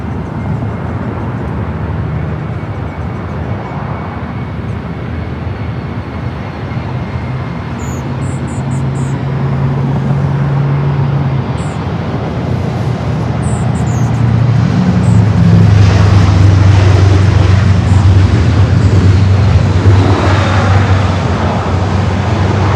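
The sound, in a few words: Boeing 777-300ER jet airliner taking off at LAX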